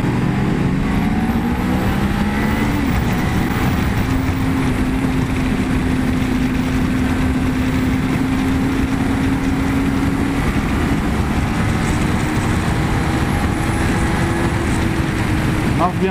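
A 2024 Kawasaki Ninja 500 motorcycle engine pulls steadily in third gear at about 6,000-8,000 rpm, giving a continuous, loud drone with a rising tone and wind rush throughout, with no speech.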